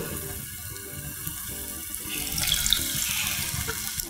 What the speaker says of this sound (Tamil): தென் இப்போ வந்து நம்ம இதில் புளி தண்ணி சேர்க்குறோம்.